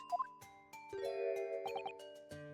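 Bells ring in the video game Ace Attorney Chronicles: a string of clear, sustained chime tones, several overlapping, with a quick triple tinkle near the end. They are moderately quiet and heard alone.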